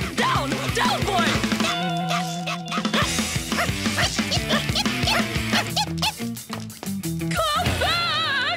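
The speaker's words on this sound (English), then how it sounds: "Leave them alone! Stop that! You horrible dog! Come back! Down! Down, boy!" A cartoon dog barks and yips in quick excited bursts over lively orchestral music, with whimpering bits scattered among the busy score.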